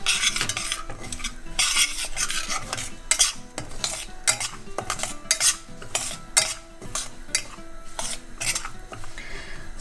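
Semolina being stirred and toasted in melted ghee in a pan, a utensil scraping and clinking against the metal in quick irregular strokes, close and fairly quiet, with a soft sizzle underneath and no talking.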